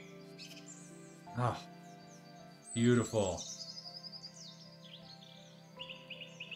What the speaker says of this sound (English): And we even have some birds.